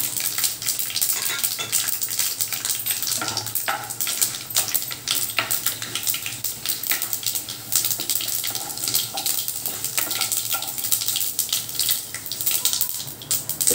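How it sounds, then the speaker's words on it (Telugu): Mustard seeds, cumin, chana dal and urad dal frying in hot oil for a tempering, giving a continuous crackling sizzle with scattered sharp pops and occasional stirring scrapes, close and unbroken by talk. "తాలింపు వేగింది."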